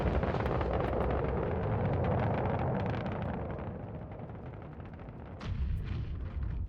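A big bomb blasts against a bunker in the space game Star Citizen, a heavy, sustained roaring rumble that fades slightly before a second burst near the end, loud and close with no talking.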